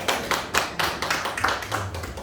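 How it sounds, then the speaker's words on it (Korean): Church seminar audience clapping to welcome a speaker, a close rhythmic run of distinct claps about every quarter second, with faint murmuring beneath. "박수로 맞이해 주세요."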